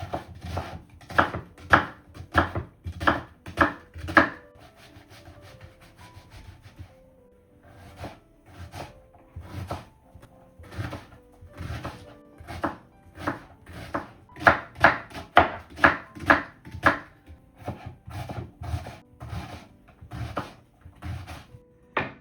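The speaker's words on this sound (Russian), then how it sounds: "Нарезаем мелко." Rapid, steady knife strokes on a wooden board, finely chopping an onion in bursts of quick close thuds with a short pause partway through.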